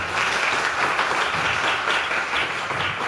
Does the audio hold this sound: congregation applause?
yes